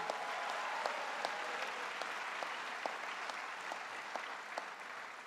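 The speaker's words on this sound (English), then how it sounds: "Let's give him a big round of applause." Audience applause at a political announcement on free state college tuition, a dense, even wash of clapping heard from a distance with faint scattered crowd noise.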